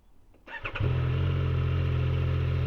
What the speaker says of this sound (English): it's got a nicer sounding exhaust